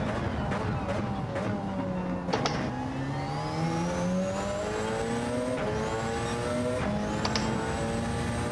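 Race car engines at Le Mans in a racing game drone and rise in pitch through gear changes, the player's car stuck behind a BMW, with a voice talking over the steady engine noise.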